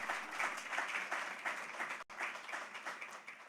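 Steady audience applause at a corporate app launch event for a Nigerian insurance company, continuous, moderately distant clapping with a brief cut midway.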